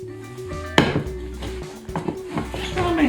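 A gluten-free carrot cake is turned out of its pan, with a sharp metallic clank of the pan being set down, followed by softer knocks and handling sounds over a low background hum.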